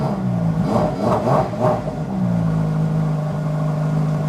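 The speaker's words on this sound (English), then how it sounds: "Give her a few revs and see what it sounds like." Ferrari engine blipped through a few quick revs, the throttle rising and falling in short bursts before settling back to a steady idle hum, loud and close with no talking.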